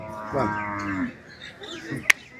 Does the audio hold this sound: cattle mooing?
yes